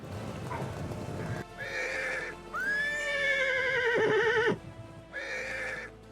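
Roman cavalry horses at a gallop, with hoofbeats pounding in bursts and a loud, drawn-out whinny rising and falling near the middle, all close and prominent.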